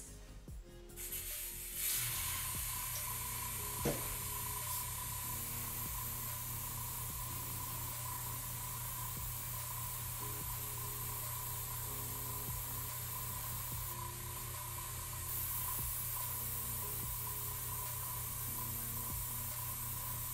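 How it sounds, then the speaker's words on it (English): An airbrush sprays black paint onto a garage kit figure, a steady continuous hiss running throughout at a constant level, close and alone, with a faint hum underneath. "Let me spray this one."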